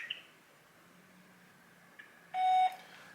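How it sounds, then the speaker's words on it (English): A short, clean electronic voicemail beep sounds once, steady in pitch, over faint background hiss. "Please leave a message at the beep."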